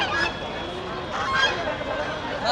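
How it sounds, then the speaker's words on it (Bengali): Geese honk in short bursts amid the busy din of a weekly poultry and bird market, with a faint murmur of voices behind them. "এখানে অসংখ্য রাজহাঁস দেখতে পাচ্ছি, চীনা হাঁস আর রাজহাঁস।"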